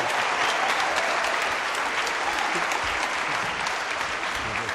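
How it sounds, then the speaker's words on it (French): A television studio audience on a French entertainment show applauds in a steady, dense roar of many hands that holds at an even level for the whole stretch. "Les applaudissements."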